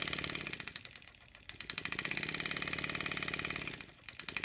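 A model steam engine run on compressed air from a garden hose type feed: a rapid, even chuffing beat plays up close, slowing and fading briefly twice as the air supply is throttled, then picking back up.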